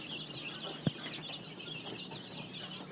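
Farm chickens clucking as they are fed egg-layer feed, a soft continuous chatter of several birds nearby with one sharp knock partway through.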